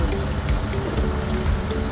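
Steady rain falls over a stone-built mountain village in Western Macedonia, a dense, even patter of drops on surfaces that continues without break.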